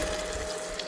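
Water pours steadily into a pot of curry during home cooking, a brief continuous splashing rush heard close with no voices.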